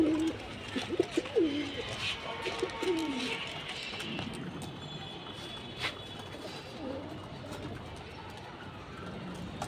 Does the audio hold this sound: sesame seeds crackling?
no